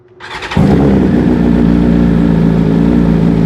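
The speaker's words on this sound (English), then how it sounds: "we'll pop this back on the motorcycle and fire it up and see what it sounds like." A 2021 BMW S 1000 RR sport motorcycle engine cranks and catches after about half a second, then settles into a loud, steady, throbbing idle up close.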